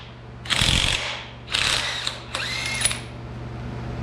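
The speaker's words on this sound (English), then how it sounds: "Let me get a socket and my impact on there and see if I can't get that busted loose." An impact wrench works at a large bolt on a Buick 455 engine in three loud, close bursts of buzzing hammering, each about half a second long, with short pauses between and no talk.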